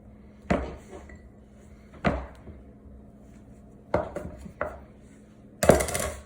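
A knife cubes cold butter for pie crust, giving five sharp, separate chops on a board spaced about a second or more apart, the last one the loudest, with quiet stillness between.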